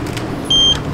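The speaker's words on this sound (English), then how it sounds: "When the buzzer sounds, it's ready." Short electronic beep from a fresh-squeezed orange juice vending machine, one clear steady tone lasting about a quarter second over low machine rumble.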